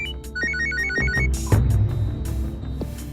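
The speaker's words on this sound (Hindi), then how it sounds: "ये कमल फोन क्यों नहीं उठा रहा है?" A telephone rings with a rapid electronic trill, repeating in short bursts, loud and close, with a few knocks and thumps in the background.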